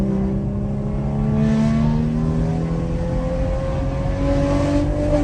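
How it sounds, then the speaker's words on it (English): A BMW M235i tuned to around 430 hp revs hard, its engine note climbing, dropping sharply and rising again as the driver rev-matches a downshift, loud and close with no voices. "All rev matching done by myself"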